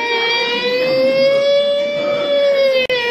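A voice imitates an American police siren with a single loud, sustained wailing tone that slowly rises and falls, close and alone, ending with a brief click.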